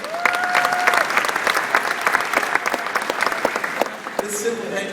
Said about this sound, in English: a big round of applause from all of us here at Shedd Aquarium